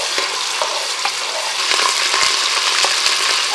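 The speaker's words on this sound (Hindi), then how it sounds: "अब हम इसमें 4 टेबल स्पून भर के अदरक लहसुन का पेस्ट डालेंगे।" Ginger garlic paste fries in a mix of oil and ghee for mutton nihari, giving a loud, continuous close-up sizzle with faint stirring scrapes.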